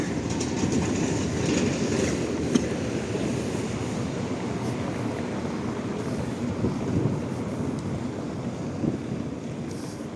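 A tram rolling along rails on a Lviv street, a continuous close rumble with faint rhythmic rail clatter throughout, no talking.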